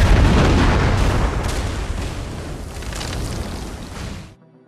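A loud, booming explosion from a bomb set off by gunfire in the film Suicide Squad, with a long rumbling roar that gradually decays, then cuts off abruptly into quiet.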